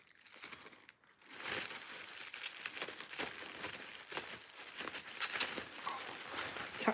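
Scissors cut a strip of sticky tape that catches on the glue, giving crinkly, snipping and tearing rustles, close and fairly quiet.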